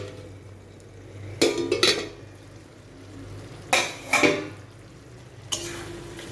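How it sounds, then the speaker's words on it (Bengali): A pan lid lifted off a pot of vegetarian kurti, giving a few close metallic clanks and rattles in separate bursts over a quiet background hiss. "এইবার আমি ঢাকনাটা খুলছি।"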